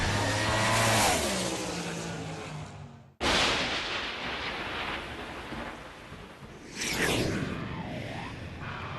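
A Top Alcohol dragster racing down the drag strip at Perth Motorplex, a loud roaring engine burst that cuts off abruptly, followed by a broad rumbling roar and a passing whoosh in the distance.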